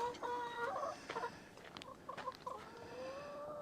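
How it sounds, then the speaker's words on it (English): Backyard chickens, including a mother hen with her chicks, cluck and chirp steadily at close range, with overlapping calls throughout and no talking. "There you go, chicks."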